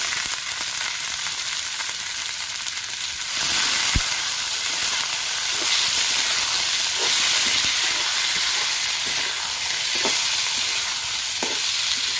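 Gima greens being tossed into a hot pan and stir-fried, a steady loud sizzle and hiss with a soft knock of the spatula around four seconds and scattered stirring scrapes afterward, no voices.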